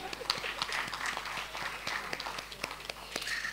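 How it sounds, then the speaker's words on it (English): An audience at a legal education conference in Ghana applauds, a dense steady patter of many hands clapping in a hall, moderately loud and continuous for a few seconds. "Please, a round of applause for him."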